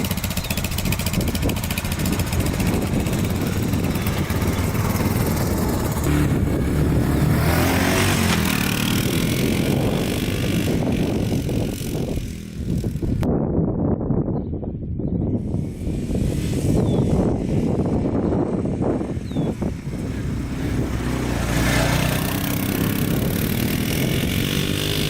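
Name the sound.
Honda Fourtrax 4x4 350cc ATV engine running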